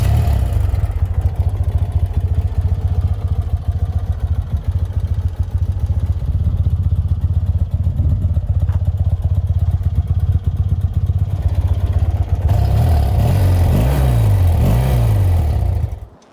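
A 1981 BMW R100CS motorcycle engine idles steadily and close, with a low continuous throb and light mechanical clatter, tuned slightly rich on the needle and very lean on the idle; near the end the pitch rises and wavers briefly.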